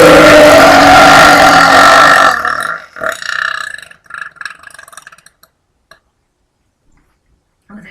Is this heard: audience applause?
no